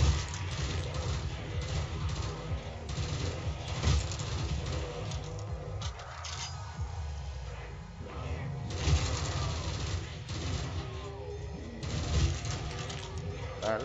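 Galil rifle fire in a Call of Duty custom zombies game comes through in quick bursts of sharp shots over a busy mix of game sounds, fairly quiet, with no clear talk.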